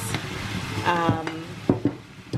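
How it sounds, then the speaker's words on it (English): Beef mince stir-frying in a hot pan: stirring and scraping with a steady sizzle underneath, a few sharper clinks of a utensil against the pan. "Not steaming, stir frying, and I just throw some beef mince in there"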